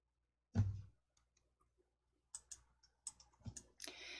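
Computer mouse clicking while working in an Excel spreadsheet: one firmer click, a pause, then a quick run of several light, close clicks.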